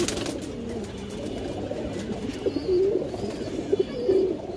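Breeding pigeons, two hens and a cock kept at home, coo in short, low bursts that build toward the end over a steady hum of background noise.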